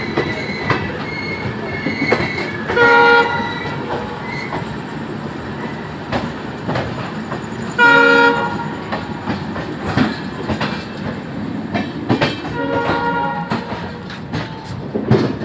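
A passenger train near Ghaziabad on the Darbhanga–Delhi route rolls in, heard from on board: loud, continuous rumble with rhythmic wheel clatter and several bursts of squealing brakes.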